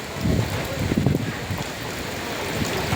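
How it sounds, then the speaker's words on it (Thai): Wind and rain storm in Wang Yang district, Nakhon Phanom, with steady broadband rush of gusting wind and rain pattering on surfaces, loud throughout and mostly alone. "เป็นพายุฝนลมแรงไดแบบนี้"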